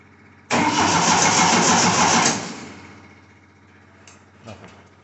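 A 1980 Triumph TR7 engine cranks loudly on the starter with the choke pulled, a dense churning burst lasting about two seconds before dying away without catching, followed by faint clicks.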